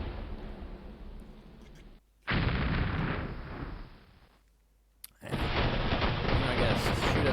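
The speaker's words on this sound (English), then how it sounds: "Confederate defensive fire." Artillery and rifle fire from the Civil War video game Battleground: Antietam, loud sustained bursts of booming gunfire in three long volleys separated by brief quiet gaps.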